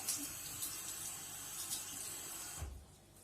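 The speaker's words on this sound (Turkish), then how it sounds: "Hemen yıkıyorum suyla." Tap water runs steadily over freshly cleaned metal stove grates in a kitchen sink, a close, continuous splashing rush that cuts off near the end.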